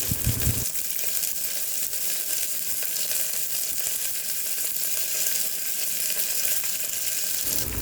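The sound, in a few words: garlic and shallots frying in a pan while being stirred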